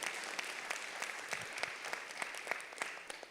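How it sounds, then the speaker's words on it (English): An audience at the Jamaica Agri-Business Investment Forum breaks into steady, dense applause from many hands, filling the room evenly for a few seconds. "let's give him a round of applause,"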